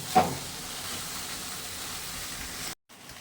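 Boiled pasta stirred into a chicken white sauce in a pan, a soft steady sizzle and hiss with a brief scrape of the spoon at the start, quiet and continuous before cutting out near the end.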